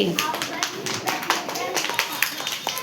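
A class of children clapping loudly in a Bengali-language lesson, with repeated sharp hand claps in a rapid burst while a teacher's voice and children's speech run alongside.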